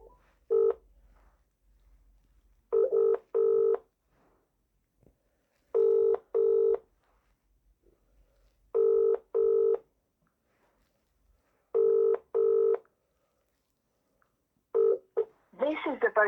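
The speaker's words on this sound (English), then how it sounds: "I'm just gonna start giving Chris Browell another call today" Paired telephone keypad tones sound in five evenly spaced bursts, loud and clean against near silence, while dialing a mobile number, with a brief warbling ring starting at the very end.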